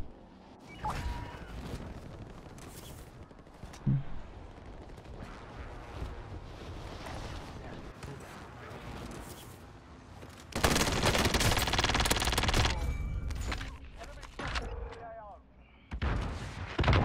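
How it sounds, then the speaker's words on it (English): Call of Duty Warzone combat with bursts of gunfire and a loud rocket blast in the middle, plus scattered shots at moderate distance. "This dude just shot a rocket at me."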